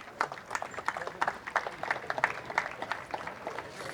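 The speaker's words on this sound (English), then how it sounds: "Big round of applause, Neil Cragg." Sparse, fairly close applause from a small crowd at an RC car racing meeting at Bury, greeting the pole position driver, with distinct individual claps in an uneven rhythm.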